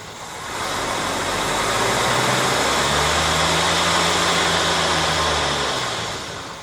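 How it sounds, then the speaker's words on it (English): A Jeep CJ7 inline-six 258 engine with a stutter idles at close range, a rough, uneven low rumble that swells in and fades out. "Got a little stutter in my engine right here."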